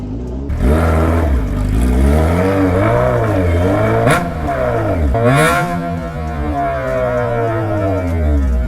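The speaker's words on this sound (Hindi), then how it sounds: "इससे लाउड कोई एग्जॉस्ट नहीं भाई" Car with a very loud aftermarket exhaust revving and accelerating, a deep droning roar that climbs and dips across several rev swells and a sharp shift, heard up close and unbroken without talk.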